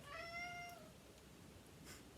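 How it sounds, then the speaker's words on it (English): A house cat gives a single faint, high, drawn-out meow near the start, followed by quiet room tone. "My cat is weighing in here."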